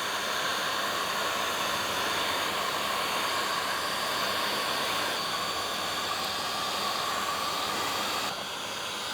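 A heat gun blows a steady, loud hiss of hot air while post-heating a chrome delete decal around the wheel rim of a 2023 Kia Telluride, running unbroken for about eight seconds before easing slightly at the end.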